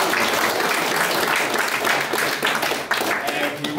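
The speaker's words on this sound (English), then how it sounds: "Ladies and gentlemen, give him a round of applause." An audience at a local history talk gives a round of applause, a thick burst of many hands clapping close by, with some voices mixed into the noise.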